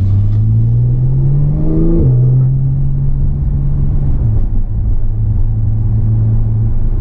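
A 2017 Porsche 911 Turbo S engine revs loudly and accelerates, pitch climbing then dropping with a gear change, followed by a steady deep exhaust rumble up close.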